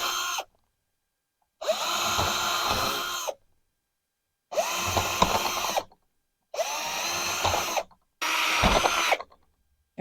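A power drill whirs loudly in four separate bursts drilling into palm wax, each lasting about a second or two, with short silent pauses between them.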